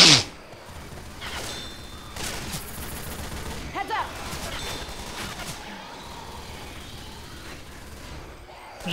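Mounted gun firing in the video game Left 4 Dead 2, a run of heavy repeated shots with a few louder bursts, sounding against a busy background while players talk.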